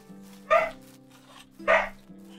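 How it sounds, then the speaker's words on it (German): A dog barks after the doorbell rings indoors, two separate loud barks about a second apart, heard over a steady low hum of game music. "der Hund bellt gerade, weil es geklingelt hat"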